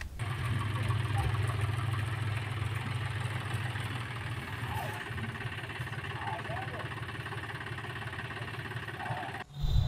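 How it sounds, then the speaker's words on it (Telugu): A tractor converted into a JCB-style dozer runs with its engine idling steadily, a loud continuous low drone with faint rattles, ending with a brief surge. "ట్రాక్టర్ కాస్త జేసీబీ పనిచేస్తున్నప్పుడు తీసిన వీడియో ఇప్పుడు సోషల్ మీడియాలో వైరల్గా మారింది"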